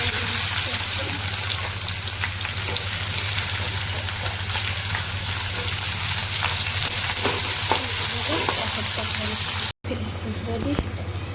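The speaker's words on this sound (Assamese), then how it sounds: "তেলতে কৰ্ণ ৰেডি কৰিলোঁ" Corn frying in oil, a dense, continuous sizzle with scattered crackles and stirring sounds, close and fairly loud, with a steady low hum underneath and a short cut near the end.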